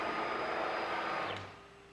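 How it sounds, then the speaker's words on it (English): An AltMill CNC machine travels back to its zero corner, a steady whirring stepper-motor drive with a rising whine that then winds down and quiets at the end. "we can very easily just click go X, Y, 0, and our machine will come back right to the same corner"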